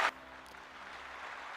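A brief burst at the start, then steady broadband clapping from a crowd that continues evenly, moderately loud and fairly distant.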